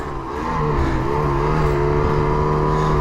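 A snowmobile engine on a deep snow day runs loud and close, with a steady, even droning whine that holds the same pitch throughout.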